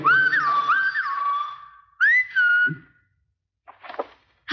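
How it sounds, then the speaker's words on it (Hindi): A person whistles a bright melodic phrase with sliding pitches, then two shorter whistles after a pause, with faint scattered noises following, close and clear. "ये सीटी तुमने मेरे लिए बजाई ना?"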